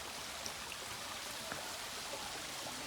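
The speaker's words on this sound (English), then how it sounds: "We got this little babbling brook coming down the hill." Small babbling brook running down a wooded hillside along a path, a steady soft wash of trickling water with faint splashes, continuous and fairly close, no voices.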